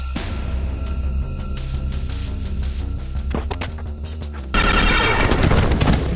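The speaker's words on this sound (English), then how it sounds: "and we'll fire with our missiles." Missiles fire in the space combat game Star Traders Frontiers as a loud, dense run of rapid blasts and booms over a droning game soundtrack, growing harsher and louder in the last second and a half.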